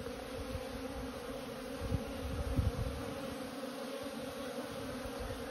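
A dense, steady hum of many honeybees buzzing close by at a hive entrance, continuous throughout with slight swells in loudness.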